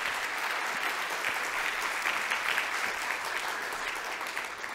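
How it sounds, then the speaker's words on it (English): Audience applause fills a symposium plenary hall, a steady sustained clapping from a sizeable crowd heard alone throughout, fairly even in level and slightly distant. "we'll start with a round of applause for them"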